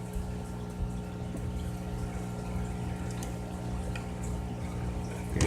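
Water running steadily through a hose siphoning from a fry tank during a water change, a continuous trickling flow over a low steady hum, close and unbroken with a slight rise at the end.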